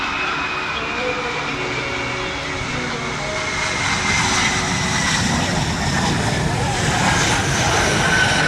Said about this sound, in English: F-22 Raptor demonstration team.